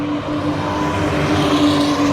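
A loud, steady engine roar of a Porsche racing car going by at Donington Park, dense and continuous with a sustained tonal whine, no talk.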